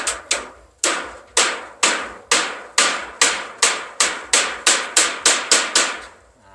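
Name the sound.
hammering nails while roofing a kitchen house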